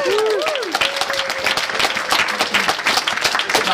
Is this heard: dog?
no